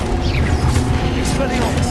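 An Expelliarmus disarming spell is cast in Hogwarts Legacy, a dense, booming whoosh with a metallic ring lasting a couple of seconds, while someone talks over it.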